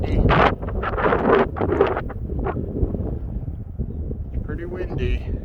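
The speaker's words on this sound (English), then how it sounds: "It's pretty windy." Strong wind roars across the microphone during a walk through a snowstorm, a steady close rumble with louder gusts near the start, and no talk.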